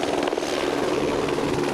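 The Águia police helicopter flies overhead, its rotor and engine producing a loud, continuous chop that fills the whole stretch with no speech.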